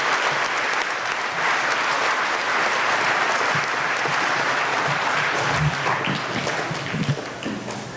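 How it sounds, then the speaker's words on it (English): A Veterans Day audience gives sustained applause for Air Force veterans, a full, close crowd of clapping hands that holds steady and then begins to thin toward the end. "Let's give them all another round of applause."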